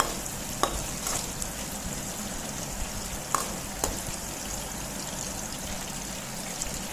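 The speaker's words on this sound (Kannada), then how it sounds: "ಮೆಣಸಿನ್ಕಾಯಿ ಎಲ್ಲ ಫ್ರೈ ಆಗೋ ತನಕ" Green chillies fry in a pan for girmit, a steady close sizzle with a few sharp clicks and stirring scrapes, no voices.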